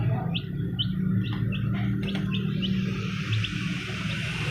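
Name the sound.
baby chicks chirping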